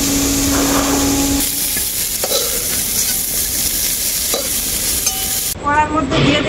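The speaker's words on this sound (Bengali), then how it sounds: "ফুলকপিগুলো আমি খুব ভালো করে ভেজে নেব।" Cauliflower pieces frying in a pan, a steady close sizzle with stirring scrapes and occasional clinks against the pan throughout.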